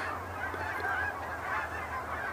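A loose domestic goose honks repeatedly near a farm shop and coop, its nasal calls steady and fairly close over continuous background noise.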